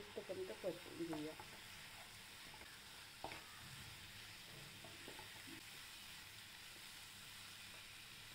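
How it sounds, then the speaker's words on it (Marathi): Coconut, garlic and ginger frying in oil, a faint continuous sizzle with a few stirring knocks near the start. "खोबरं लसूण आलं ते टाकूया आणि तेल सुटेपर्यंत परतून घेऊया."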